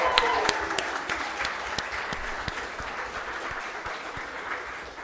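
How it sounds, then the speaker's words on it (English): A round of applause at a football club's awards night, with individual claps clearly audible at first, then the clapping gradually thinning and fading over five seconds. "So a round of applause to them"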